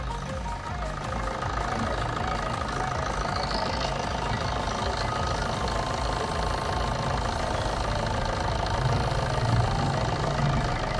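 A 2010 Maruti Swift Dzire VDI diesel engine idles steadily with a rough, knocking diesel rumble, close and continuous without any revving.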